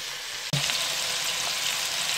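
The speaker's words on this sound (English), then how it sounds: "Okay, so we've got the oil in the pan nice and hot. Fire the mince in." Beef mince dropped into hot oil in a pan sets off a sudden loud sizzle after a short pause, then a steady, close crackling fry continues to the end.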